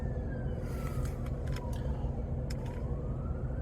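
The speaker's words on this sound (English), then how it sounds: "We have another emergency vehicle." A sheriff's emergency vehicle passes through a road construction zone, its siren wailing in a sweep that rises and falls over steady traffic and road noise, with a few short bursts standing out.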